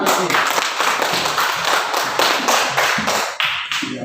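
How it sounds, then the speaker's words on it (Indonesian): Clapping from a group, likely children, for a small child in a class or school gathering, steady irregular claps at close range with some voices mixed in. "mari kita tepuk tangan untuk anak kecil"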